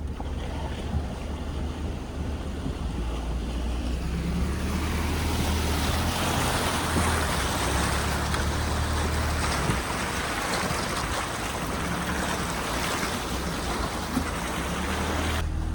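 A 4x4 fords a river crossing, with water rushing and churning loudly around it in a steady roar under low engine rumble and no talking.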